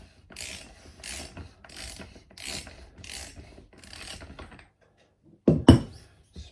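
A ratchet turns the fork top nut on a Yamaha R1 motorcycle in a series of steady, evenly spaced clicking pulls. A pause follows, then a sharp metallic clunk or two at close range.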